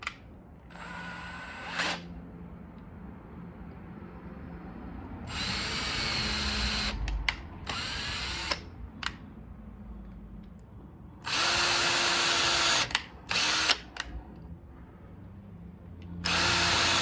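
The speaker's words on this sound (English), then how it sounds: "Take the pilot drill." A power drill whirs in several bursts of a few seconds each, revving up and stopping, with quieter handling noises between runs.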